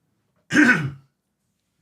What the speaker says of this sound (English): Obligatory cough.